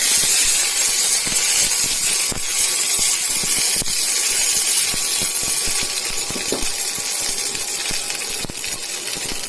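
Gram, curry leaves and green chilies sauté in a hot pan with a steady loud sizzling hiss, dotted with a few faint clinks and spatters.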